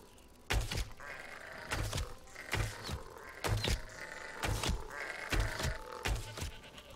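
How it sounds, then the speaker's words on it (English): Sheep in The Elder Scrolls Online give a run of odd, croaky bleats, repeated in loud regular bursts about a second apart over a steady game background. "I'm pretty sure sheep don't actually make that noise."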